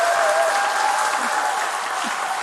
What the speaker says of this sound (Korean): 저는 이 정도 박수 소리로는 설교를 하지 않습니다.